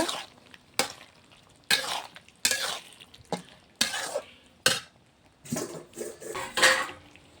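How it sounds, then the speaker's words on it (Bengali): Potato and pointed gourd are stirred and sautéed in a pan, with bursts of sizzling and scraping strokes coming in an irregular rhythm every second or so, close by. "এবার একটু ভালো করে কষে নেব"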